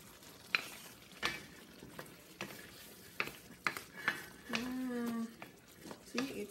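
Pinakbet vegetables cooking in oil in a frying pan, with a soft sizzle under sharp, spaced clinks and scrapes of a utensil against the pan, plus a brief voice-like murmur partway through.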